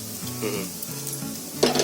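Masala dosa frying in oil on a hot griddle gives a steady close sizzle throughout, with a brief louder crackle and scrape near the end.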